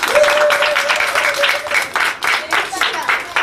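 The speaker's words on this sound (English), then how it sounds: "Clap for yourself." Children at a rehabilitation center clap for themselves: a brisk burst of many small hands clapping close by, uneven and pulsing, with voices mixed in.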